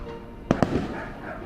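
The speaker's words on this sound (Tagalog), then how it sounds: "They have a firework display." Theme-park fireworks at Enchanted Kingdom in Santa Rosa, heard from a roof deck: two quick sharp bangs in succession followed by a softer echoing pop, at moderate distance against quiet background.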